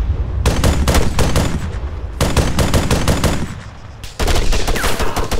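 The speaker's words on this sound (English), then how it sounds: "Taking fire! On the road." Loud, close automatic gunfire rattles in Arma 3, a military shooter game, in long sustained bursts. There are short gaps between bursts, with a fresh volley starting near the end.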